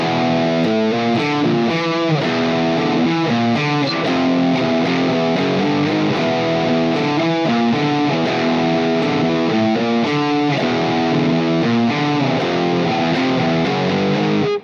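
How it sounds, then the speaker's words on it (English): A heavily distorted electric guitar chugs through a metal riff played with no contrast between open and palm-muted notes. The loud, dense and unbroken riff runs steadily for about fifteen seconds with no talking. "So if I play this badly and I don't have any contrast between my open notes and my palm muted notes, it would sound something like this."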